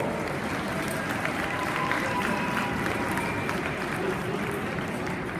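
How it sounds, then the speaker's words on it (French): A large crowd applauds loudly at a ring presentation event, steady dense clapping that fills the space with faint voices mixed in beneath. "Vous pouvez les applaudir très fort."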